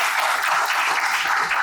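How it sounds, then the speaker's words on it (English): A room full of people applauds Dr. Hemant, a top NEET PG 2025 ranker: dense, steady clapping fills the whole moment at close range with no talking. "I think a big round of applause to Dr."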